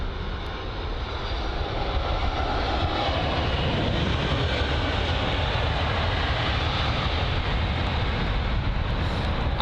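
An airliner arriving at London Heathrow, a loud steady roar of jet engines dominating the whole stretch, broadband and unbroken, with no voices.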